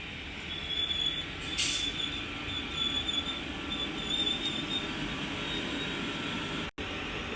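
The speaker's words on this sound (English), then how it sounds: "Now arriving is the 1501 London Northwestern Railway service from Northampton to London Euston." A London Northwestern Railway train pulls in at Leighton Buzzard on the West Coast Main Line, its steady rumbling roll topped by high, thin squeals from the wheels, close and continuous.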